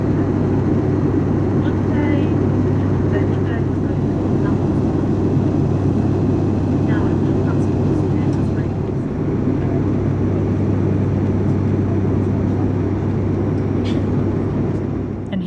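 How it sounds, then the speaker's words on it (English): Steady, loud engine drone inside the cabin of a Loganair ATR 72-600 turboprop in flight, a constant low rumble with faint cabin sounds over it. "The engine noise was not as loud as I expected, although I'm not at all suggesting it was quiet."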